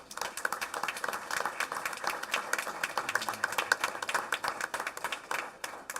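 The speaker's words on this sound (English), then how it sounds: "Let's give them a big round of applause." Audience applause for students at a school board meeting, sustained moderate clapping from a crowd in a room, fairly distant and even, with no clear speech.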